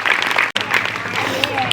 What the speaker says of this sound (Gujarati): જોરદાર તાળીઓથી અમને વધાવો